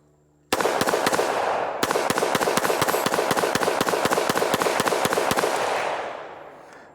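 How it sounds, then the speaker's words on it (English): Rapid-fire magazine dump from a 5.7 caliber pistol: a dense run of sharp, loud gunshots in quick succession, with one brief pause early on, echoing outdoors and then tapering off. "we're gonna try to do a little mag dump real quick just to see how it works"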